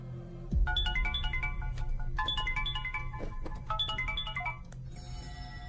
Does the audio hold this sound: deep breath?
no